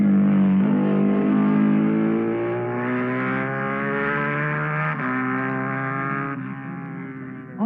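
A Czechoslovakian Jawa twin-cylinder racing motorcycle engine drones loudly at high revs with a rich harmonic buzz, its pitch creeping upward, dipping at a shift, then rising again before fading slightly at the end.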